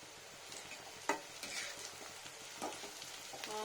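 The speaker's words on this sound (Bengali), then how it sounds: "শুধু ফ্রাই করছি পেঁয়াজ আর রসুন আর শুকনো লঙ্কা" Onion, garlic and dried red chilli fry in oil, a soft continuous sizzle broken by occasional scraping and stirring knocks from a utensil against the pan.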